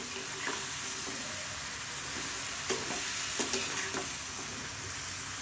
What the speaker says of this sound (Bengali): তারপরে যেটা এখন আমি সুন্দর করে ভেজে নেবো